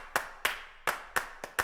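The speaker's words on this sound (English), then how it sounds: "So you've got this claps." Five crisp clap samples from a produced music track hit in a steady, slightly uneven rhythm, each a sharp, bright burst with a quick decay, alone and close.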